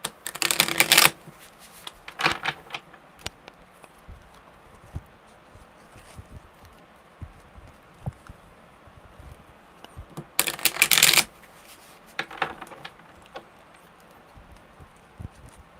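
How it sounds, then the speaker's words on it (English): Tarot cards being shuffled during a live tarot reading, two loud riffling bursts about ten seconds apart with lighter card taps and handling sounds between them, close up in a quiet room. "All right, one more good shuffle."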